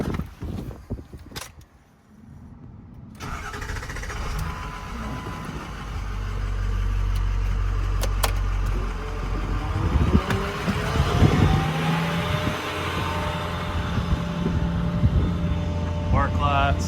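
A 2006 Ford F550 service truck engine cranks and catches, then idles at a steady mid-level drone with clatter from nearby equipment on top.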